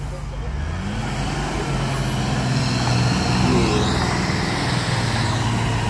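A heavy truck labours up the Bukit Kodok hill road, its engine droning loud and steady with shifting tones, while hissing air brake bursts rise above the rumble.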